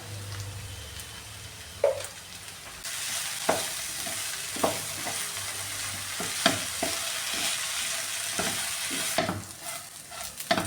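Raw banana stir fry (mezhukkupuratti) seasoned with pepper, sizzling in a pan while a spatula scrapes and stirs in irregular strokes over a continuous soft frying hiss, close and fairly quiet, with no talk.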